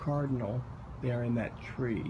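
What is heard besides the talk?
No everyday noise stands out behind the speech.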